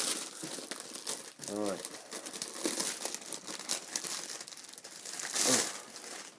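A heavy book being worked out of its plastic wrapping, with close crinkling and rustling of plastic running throughout, under a short spoken word and brief talk.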